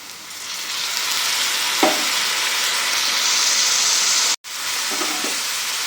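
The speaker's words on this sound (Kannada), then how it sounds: "ಇವಾಗ ಸಿಗಡಿ ಹಾಕ್ತಾಯಿದ್ದೀನಿ ಸಿಗಡಿ ಹಾಕ್ತಾಯಿದ್ದೀನಿ" Shrimp frying in a pan with egg gives off a steady, bright sizzle from close by, broken by a couple of soft stirring scrapes and one brief cut-out near the end.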